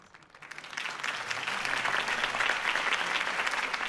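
Crowd applause in the Telltale Batman video game, rising after a Harvey Dent campaign speech: dense, steady clapping from a large audience that swells in the first second and holds strong to the end.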